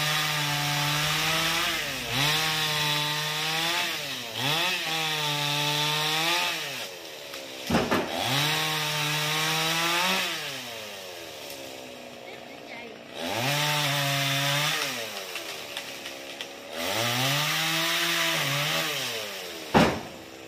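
A chainsaw cuts a large branch from a big xà cừ tree over a school roof, revving in repeated rising and falling bursts of about two seconds each, loud and close, with short pauses between cuts.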